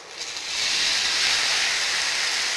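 Chopped tomatoes tip into a hot pan of tempered asafoetida, cumin and crushed pepper for Tamil honey sundakkai rasam, setting off a loud, steady broadband sizzle that swells after a brief start and holds on alone.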